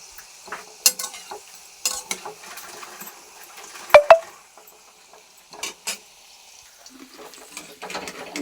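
Vegetables frying in oil in a pan for a meat pulao: a faint sizzle broken by intermittent stirring scrapes and sharp clinks of utensil on pan, moderately close.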